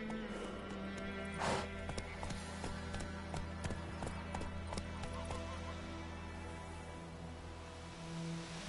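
A horse gallops in The Witcher video game, a steady run of hoof clip-clops over a constant game music and ambient bed, with no talking.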